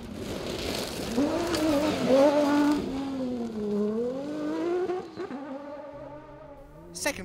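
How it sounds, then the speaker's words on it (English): A rally car on the technical Ebbw Vale course revs hard and then eases off. The engine note rises and falls through gear changes as it passes at moderate distance, ending with a brief sharp noise. "this very technical course is better suited to the car of Stuart Williams, so Mark will be looking to take advantage of any high-speed sections he finds"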